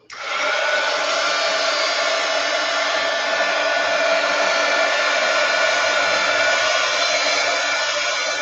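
A dryer blows steadily to dry acrylic paint in a mixed media painting, a loud continuous whoosh that starts abruptly and holds without voices.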